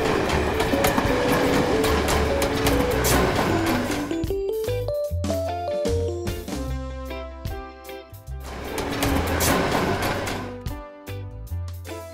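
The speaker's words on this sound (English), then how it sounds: "Tram." A tram rumbles loudly nearby, its electric motor whining upward in pitch over clattering wheels and rail noise, then droning on steadily.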